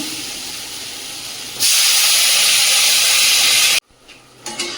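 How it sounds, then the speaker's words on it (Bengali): Water poured onto sautéed shukto vegetables in a hot pan bursts into a loud, sustained steam hiss after a quieter sizzle, then cuts off abruptly to faint kitchen noise. "এদিকে শুক্তোর তরকারির সবজিগুলো ভালো করে কষিয়ে নিয়েছি, জল দিয়ে দেবো।"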